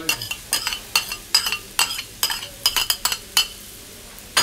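Rice being stir-fried in a real wok, with a spatula scraping and clanking against the metal in a steady series of sharp strokes over a soft sizzle, close and fairly loud.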